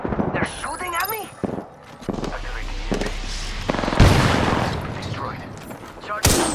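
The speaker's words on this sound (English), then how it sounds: "Someone's got a shot on me, pretty sure. Hands up! We're not alone! They're shooting at me?" Enemy gunfire in the battle royale game Apex Legends rings out as scattered sharp shots and bursts amid game effects, with a player talking over the action.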